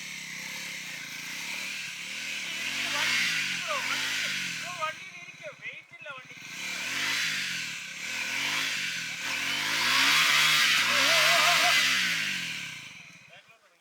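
A Triumph motorcycle engine revs hard while climbing a steep off-road trail, its loud buzzing note rising and falling in repeated surges over rough ground, with no talk.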